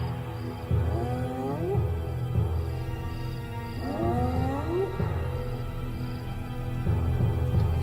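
A hyena in the African wild gives repeated loud rising whooping calls, about three in a row with pauses between them, heard over a low rumbling background.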